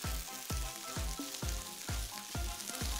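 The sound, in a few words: stirring samosa filling with fenugreek leaves in a pan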